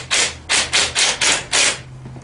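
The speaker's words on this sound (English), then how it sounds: "Take your Allen wrench and just tighten it up just a little bit to get them started." Allen wrench turning bolts on the steering column of a 110cc mini ATV, five loud rasping strokes in a steady rhythm, each a short grinding rub, close up with no talk.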